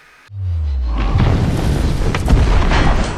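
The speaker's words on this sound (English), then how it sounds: "50 is just an insane round. It's like an artillery cannon every time." .50 caliber rifle shot fired at concrete blocks: one sudden, very loud, deep boom close by, followed by a sustained rumbling, crackling wash of debris and echo.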